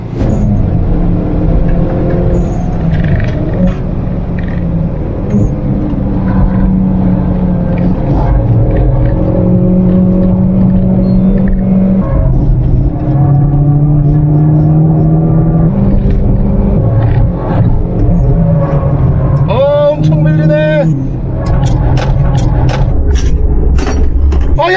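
A race car engine revs hard and climbs through repeated gear shifts on a timed lap, the pitch rising and dropping as it pulls around the track, with a Korean-speaking voice occasionally over it.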